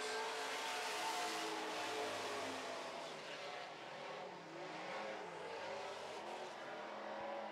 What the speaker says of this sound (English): Scott Brown looks to be and is catching him quite quickly now as they come down the front straightaway.